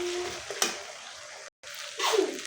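Spice pastes of garlic, onion and mustard with bay leaf sizzle and fry in a pan for raw mango pickle. A steady close hiss runs throughout with a few stirring scrapes, a brief break, then a louder burst of frying.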